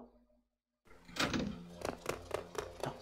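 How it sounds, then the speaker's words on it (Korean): A door opens in Zaphie, a classic horror video game: a low creak begins after a brief silence, followed by several sharp, evenly spaced knocks or clunks, moderately close and clear. "문소리가 난 것 같아."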